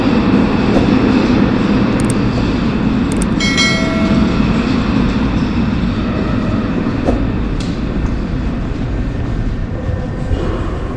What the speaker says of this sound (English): I am boarding the metro in the east of the city